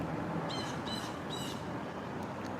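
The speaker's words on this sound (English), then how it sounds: "Y'all heard that bird?" A single bird squawking nearby, three harsh rasping calls in quick succession followed by a couple of fainter clicks, heard alone over a steady hiss during a livestream.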